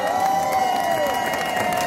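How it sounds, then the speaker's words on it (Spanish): Crowd applause and cheering at a traditional verdiales contest in Montes style, greeting the Benagalbón band, steady and dense throughout with a sustained tonal note riding over the clapping. "Vamos a recibir con un fuerte aplauso en este cuarto choque a la primera de Benagalbón."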